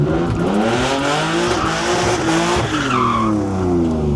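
A car drifts and spins, its tires squealing in long wavering screeches over a loud, revving engine, close and continuous throughout.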